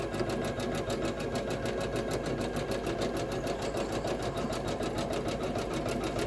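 An embroidery machine runs a bean stitch over a strand of yarn, its needle hammering in a fast, steady mechanical rhythm that stays loud and continuous throughout.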